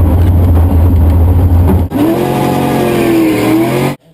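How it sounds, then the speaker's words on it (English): A drift car accelerating hard in a drag race, loud engine roar climbing through a gear change near the midpoint, then revving high until cutting off abruptly, close and alone. "Gonna be drag racing the drift car"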